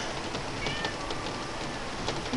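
A cat indoors during a snowstorm gives a few faint, thin meows over a steady background hiss of wind and weather, quiet and close.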